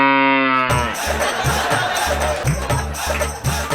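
A person on a Telugu television comedy stage imitates a buffalo or cow with a short, loud, drawn-out moo, followed by a burst of busy music and crowd noise.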